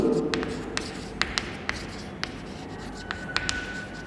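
Chalk or marker strokes on a board while writing a topic on unequal distribution, a series of short, quiet scratching taps in an uneven rhythm, close by with no talk.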